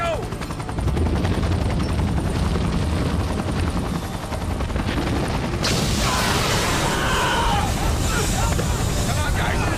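Helicopter in a video game, its rotor thumping loud and continuous throughout, with dense gunfire and booms mixed into the action.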